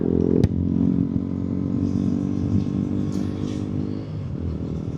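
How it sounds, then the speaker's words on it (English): Motorcycle riding on a nice day with the helmet visor shut, a loud steady engine drone and rushing wind roar throughout, opening with a sharp click. "I'll try to keep the visor shut so that it cuts down on the wind noise."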